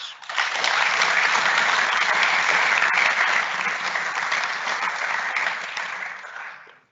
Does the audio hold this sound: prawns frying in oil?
no